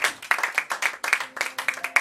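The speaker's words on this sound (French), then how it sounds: "on applaudit encore une fois" Audience applause following a first public reading at an evening literary event, heard as a steady run of fairly sparse, close handclaps with distinct individual claps.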